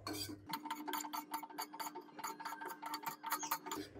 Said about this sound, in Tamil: ஸ்லோவாக வச்சு கலக்கிக்கோங்க